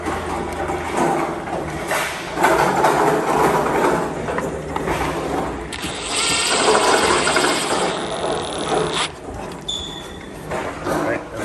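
A Model Y front lip spoiler of real molded carbon fiber is fastened with self-tapping screws, giving noisy mechanical whirring bursts that grow stronger midway, under a person talking.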